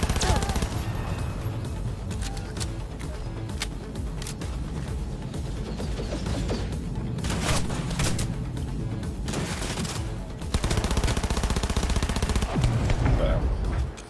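A gun in a PC video game fires in rapid repeated bursts, loud and sustained with a dense crackle of shots, under occasional talk.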